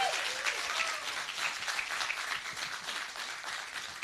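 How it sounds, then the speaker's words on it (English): An audience at a filmmaking challenge awards night claps steadily for the host, a dense, even wash of applause heard from a moderate distance. "How about keep the applause going for Barry?"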